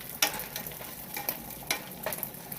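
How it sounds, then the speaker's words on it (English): Bacon crisping in a pan crackles steadily up close, with several sharp pops and spits scattered over a constant hiss and no voices. "the bacon's getting nice and crispy"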